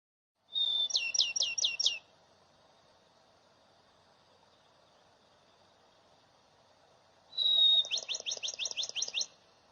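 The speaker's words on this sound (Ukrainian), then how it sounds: "Горобець" A house sparrow sings in a winter setting, giving two close bursts of rapid, sharp chirping notes separated by several seconds of near silence.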